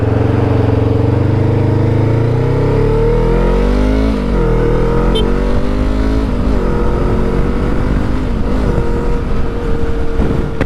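A 2021 Honda CBR500R motorcycle engine while riding, droning and then climbing in pitch as it revs up through the gears, loud and close with a continuous buzzing tone.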